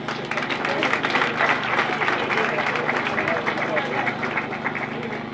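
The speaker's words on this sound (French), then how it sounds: "Applaudissez." An audience at a school support event in Kisenso applauds in a dense, steady roar of clapping mixed with crowd noise and voices, holding level for several seconds.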